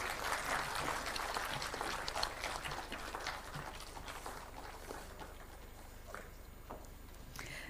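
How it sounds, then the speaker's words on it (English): An audience at a World Telecom Day ceremony gives a round of applause for a team leader. The clapping is moderate and fairly distant, loudest at first and thinning gradually toward the end. "Round of applause."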